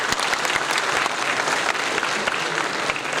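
An audience at a medical college annual drama event claps for the dean and principal, a dense, steady round of applause from a large crowd, continuous and full throughout.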